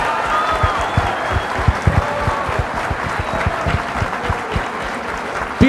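Sustained audience applause after a keynote speech, with a large crowd clapping steadily and densely throughout, a few louder individual claps standing out close by.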